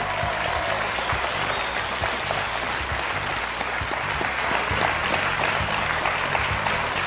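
A studio audience at the French game show Questions pour un champion applauds steadily, dense sustained clapping from a large hall that holds evenly throughout without talk.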